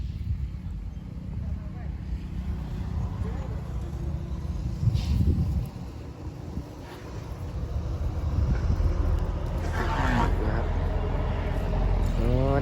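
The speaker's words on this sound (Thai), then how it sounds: "ยินเสียงรถบัสครับ" A tourist bus rumbles past nearby with a low engine drone that swells and fades, while people talk faintly and birds call in the background.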